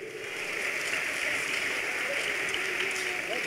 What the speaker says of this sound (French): allez... allez, on les applaudit très très fort